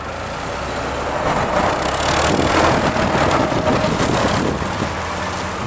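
A Doosan 5,000-pound pneumatic tire forklift drives around, its engine a steady, fairly loud broadband drone that swells slightly mid-run and then settles, with no talk over it.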